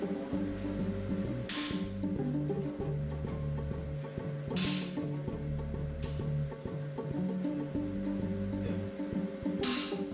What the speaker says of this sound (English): now he's going to have Tim strike for him while he holds the set tool to drive the tool into the steel